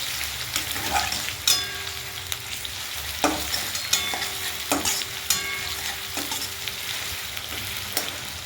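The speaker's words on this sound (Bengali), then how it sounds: "পেঁয়াজগুলো লাল হয়ে ভাজা না গেল, ততক্ষণ এগুলো নড়িয়ে চড়িয়ে ভেজে নিলাম" Onions fry on low flame in a pan while a spatula stirs them, giving a steady sizzle with frequent scraping clacks of metal against the pan, close and loud.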